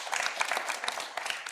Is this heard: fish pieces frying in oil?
no